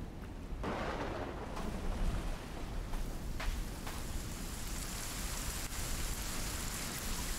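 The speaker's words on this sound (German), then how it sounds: "Der Regen ist so arg laut." Heavy rain pours steadily in the forest of Sons of the Forest, a loud continuous hiss with a few sharper drop impacts, with no talk over it.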